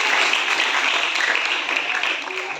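Sustained audience applause at a stage event honouring a young girl who sings hymns, a steady dense wash of clapping that fades slightly toward the end.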